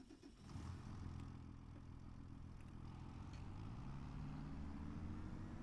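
A 225-horsepower tractor in Farming Simulator idles and revs softly, a low steady engine drone with no talk.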